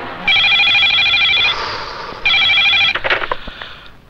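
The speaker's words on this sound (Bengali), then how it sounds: "সেক্রেটারি, থানায় ফোন লাগাও।" A telephone rings in two loud electronic bursts, each over a second long, while a secretary places a call to the police station; a brief clatter follows the second ring.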